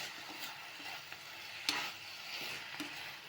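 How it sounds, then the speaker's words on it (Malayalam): Mushrooms frying in a pan give off a soft, steady sizzle, with occasional stirring scrapes and a sharp clink partway through, heard close and fairly quiet with no talking. "നമ്മൾ കൂണ് പൊരിച്ചെടുക്കുമ്പം"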